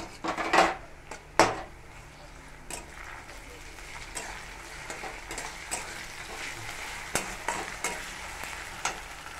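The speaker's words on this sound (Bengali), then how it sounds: "পেঁয়াজটা ভাজা হয়ে এসছে, এবার দিয়ে দিচ্ছি আদা রসুন বাটাটা" Onions sizzle and fry in a pan as ginger garlic paste goes in, with a couple of sharp stirring clatters early on, then a steady crackle under occasional utensil taps.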